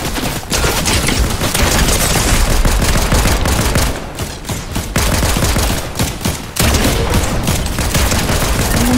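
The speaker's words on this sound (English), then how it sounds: "Somebody else is shooting at us." Dense, continuous gunfire in a shooter video game, rapid bursts of shots rattling almost nonstop with only brief gaps, loud and close, with no talking over it.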